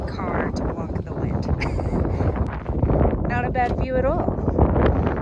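Wind buffets the microphone in a steady low rumble while people talk over it outdoors by a fire pit at a canyon.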